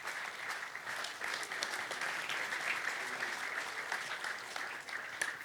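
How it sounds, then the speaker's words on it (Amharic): A church audience applauds elders at a gathering: dense, steady clapping from many hands fills the whole stretch at an even level, with no talk over it. "ኑ አጨብጭቡላቸው።"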